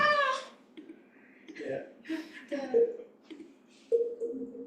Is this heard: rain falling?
no